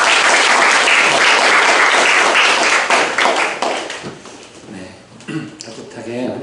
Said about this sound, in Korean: 우리 김기일 목사님을 박수로 환영하겠습니다.